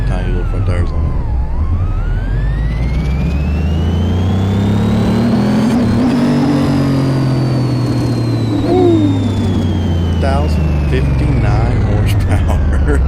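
Monte Carlo SS drag car engine in Car Mechanic Simulator 2018 roars loudly and continuously, its pitch climbing and falling through long revving sweeps, with a faint voice underneath.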